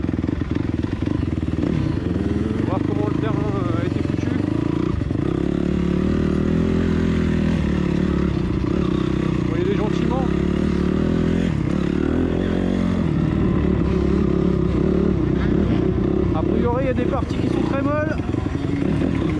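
A Honda CRF 250 motocross motorcycle rides a dirt track, its engine buzzing loudly and steadily up close with repeated revving and throttle changes throughout, while a person talks over the noise.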